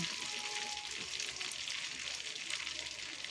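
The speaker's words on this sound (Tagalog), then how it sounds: "Ayan, magpiprito na tayo ng tilapia." Tilapia frying in salted cooking oil, a loud, continuous close-up sizzle and crackle that holds steady throughout.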